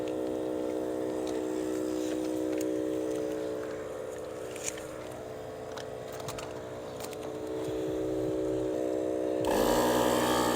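A 12V 150 PSI compact air compressor inflating a Toyota 4Runner tire at night steadily drones with a harmonic motor hum, close and continuous, with the pitch shifting slightly near the end; no talking.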